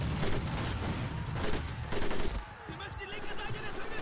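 Sustained gunfire in Medal of Honor Pacific Assault jungle combat, dense rapid shots and a booming impact, steady and loud before briefly easing, with no talk over it.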